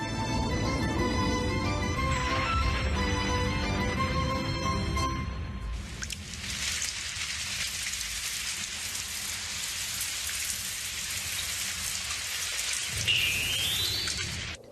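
Cartoon rain effect: a steady, loud hiss of falling rain plays alone after an opening music passage, continuing evenly to the end.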